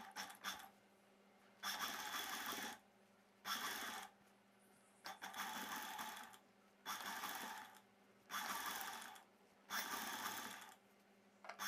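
A sewing machine stitches along the collar of a Peter Pan blouse in six even runs of a few seconds each, a close whirring rattle separated by brief quiet pauses, with no talk.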